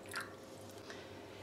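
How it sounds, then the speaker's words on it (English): Tie dye liquid is poured onto fabric in a bowl, giving soft wet drips and squishy splashes, brief and faint against a quiet background. "So let's start pouring this in."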